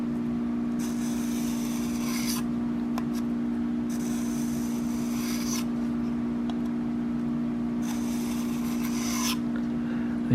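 A broadhead blade is drawn in light, slow strokes across a 1200 grit stone, producing three soft, raspy scraping passes over a constant background hum.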